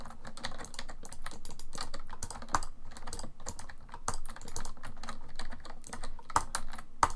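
Loud computer keyboard clicking, fast and continuous close-up typing with dense rapid keystrokes and a few sharper clacks, no voices.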